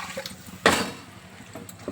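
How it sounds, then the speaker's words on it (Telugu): Water splashes into a mixer grinder jar for rinsing out leftover masala while making fish curry, a short pour-and-slosh burst near the middle, close and moderately loud, with faint kitchen clatter around it. "ఇదే మిక్సీ జార్లో కొన్ని నీళ్ళు వేసుకొని"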